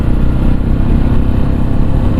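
Tekken 250 motorcycle engine braking while downshifting from fourth to third gear, a loud, steady, rough mid-pitched drone close up with wind rush and no clear revving changes.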